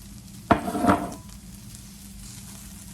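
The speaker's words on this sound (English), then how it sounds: "So I'm going to add my okra in there." Fresh garden okra dropped into a hot pan of succotash gives a sudden sizzle burst that quickly fades back to a quiet background hiss.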